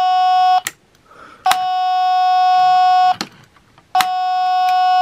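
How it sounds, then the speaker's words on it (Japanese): A Tomica Town auto parking gate toy buzzer sounding in loud, harsh electronic tones, sustained blasts of about a second each repeating three times with short quiet gaps between. "ブザーがね、とりあえずうるさい。"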